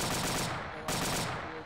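Automatic weapon fire with tracer rounds in the military shooter ArmA II, set in a Vietnam scenario, two loud sustained bursts of rapid shots split by a brief gap.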